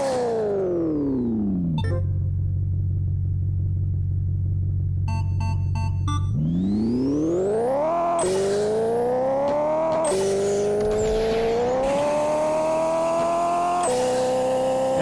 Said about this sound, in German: Einmal kurz die Reifen aufgewärmt